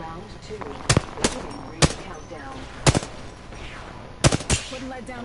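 Sharp gunshots from a weapon in Apex Legends crack out in an irregular string of single and doubled bursts, loud and close over a steady background hum, with speech underneath.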